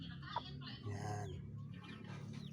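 A brooding hen sitting on a clutch of eggs gives a few soft, close clucks and low throaty murmurs, short and quiet against a faint background.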